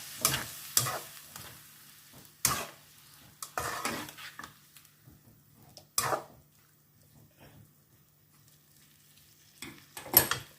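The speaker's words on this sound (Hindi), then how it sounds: "थोड़ा सा साथ ही हम पानी भी ऐड कर देंगे ताकि हमारे टमाटो पेस्ट अच्छी तरह से मेल्ट हो जाए" Beef karahi sizzling in a pan after tomato paste and water go in, with several sharp stirring scrapes and clanks of the utensil between quieter stretches of frying.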